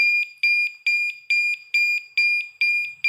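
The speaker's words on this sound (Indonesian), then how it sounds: "kelihatan dari jarak jauh itu lampu berkedip warna merah dan bunyi alarm" Loud, piercing anti-theft alarm from a smart lamp, beeping in a fast, regular pulsing pattern, repeating about twice per second with no other sound.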